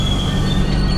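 Train wheels squeal steadily and loudly as an Indian train brakes to a stop at the small Babugarh station, a continuous high metallic whine over low rumbling rail noise, with no talking.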